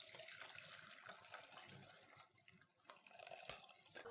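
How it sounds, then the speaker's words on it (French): Veal blanquette cooking broth is poured and strained, giving a soft continuous trickle and splash of liquid with a few small clinks, faint and close. "on va filtrer le bouillon de cuisson"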